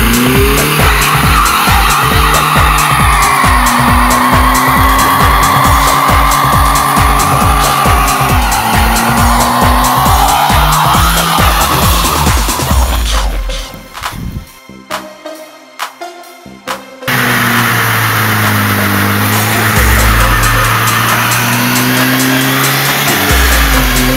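A Mercedes-Benz 190 E roars and revs hard during a burnout, tires squealing loudly and continuously with a brief dip midway before the screeching engine resumes at full volume.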